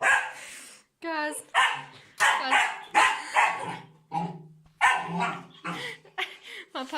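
A puppy barks and yips in repeated short bursts at close range, loud and excitable, with brief gaps between the barks and a few higher whining yelps.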